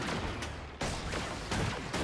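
A robot companion in Guild Wars 2 firing its guns, loud rapid bursts of gunfire in quick succession with sharp attacks, no talking.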